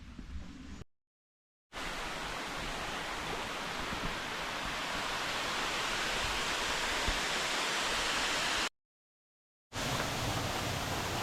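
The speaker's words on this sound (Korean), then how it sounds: "이제 계곡 소리가 납니다" Steady, full rushing water of a mountain valley stream in Wolchulsan National Park, constant and loud, with two brief silent gaps.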